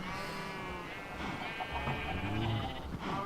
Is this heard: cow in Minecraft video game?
yes